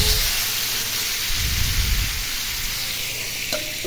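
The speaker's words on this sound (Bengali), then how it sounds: "এখন আমি এটা ভেজে নেব, ভেজে এটা মাছটা ভুনা করব।" Pieces of tuna rubbed with salt and turmeric fry in a pan, giving a steady, dense sizzle and spatter close up. The crackling holds at an even level throughout.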